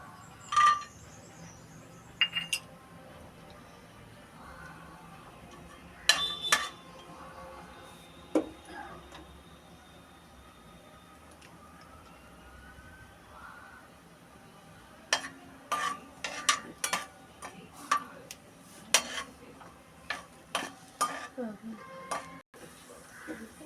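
Cashews frying in a little ghee in a pan for coconut rava laddu, with soft background sizzle and scattered clinks and scrapes of stirring that cluster into busier bursts toward the end, with quiet stretches between.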